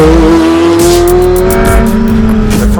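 Ferrari F430 Scuderia driving hard on a racetrack, its engine a loud, continuous howl rising in pitch through the revs with a brief shift break, close and alone.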